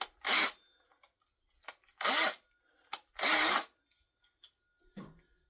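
A handheld power drill that may be faulty whirs in several short bursts of about half a second each, separated by quiet gaps. Close and loud, with no speech.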